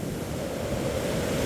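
A swollen river running high enough to nearly reach nearby houses gives a steady, dense roar of rushing water, loud and continuous with no voices over it.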